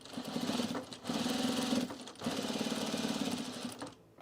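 A sewing machine stitches through corduroy trouser fabric, running in three steady bursts of rapid mechanical whirring with short pauses between, close and fairly loud.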